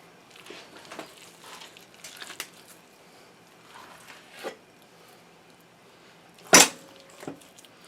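A large knife slices through a big chunk of beef on a board, giving scattered soft cuts and squishes followed by one sharp, loud knock of the blade striking the board near the end.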